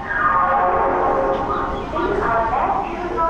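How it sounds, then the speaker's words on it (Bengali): A Vande Bharat train pulling away from platform 3 at a station, its low rumble and rolling rail noise running steadily beneath a voice talking nearby. "আমাদের 3 নম্বর থেকে ছাড়লো ট্রেনটা।"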